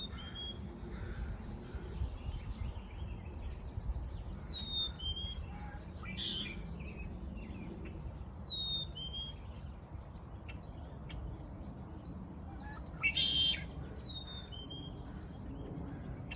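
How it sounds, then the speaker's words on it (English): Black-capped chickadee song among other birdsong at an early-March field site near Vancouver, BC; scattered faint clear whistled notes and chirps recur over a steady low outdoor rumble, with one brief louder burst near the end. "So that's the song of the black-capped chickadee."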